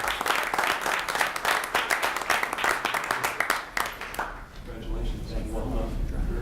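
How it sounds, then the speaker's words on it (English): At a village board meeting, people applaud contest winners with brisk, fairly close clapping for about four seconds. Talk and murmuring follow as the applause dies away. "Let's give them a round of applause"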